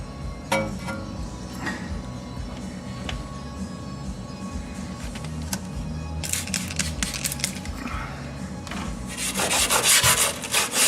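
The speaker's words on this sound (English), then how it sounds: "See, I really can't even see when I'm scrubbing here." Someone scrubs the wheel well of a BMW E46 M3 in quick brushy strokes, some bursts louder and denser, close to the mic with light clicks and taps between them.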